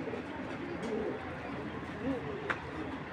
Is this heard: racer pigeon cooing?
yes